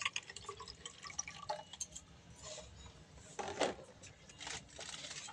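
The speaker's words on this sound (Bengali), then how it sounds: "আমি জল ভরে দিচ্ছি" Water is poured into a container at home, heard as faint irregular splashes and drips with small clinks, quiet and close, with no talk.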